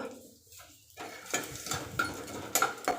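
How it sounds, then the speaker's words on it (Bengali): Home-dried pond fish, to be cooked with taro, frying in a pan: a quiet start, then a soft sizzle with stirring and a few metallic clinks of utensil against the pan. "এগুলো প্রথমে একটু ভেজে নিব"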